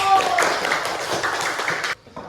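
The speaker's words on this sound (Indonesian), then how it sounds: "beri tepuk tangan untuk kelompok 1" A classroom group claps for the first student group after a teaching practice session, dense applause with voices mixed in, ending abruptly near the close.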